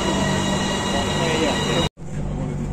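A Bangkok metro train rumbles and hums steadily from inside a carriage, with a brief cut near the end before the rolling noise resumes.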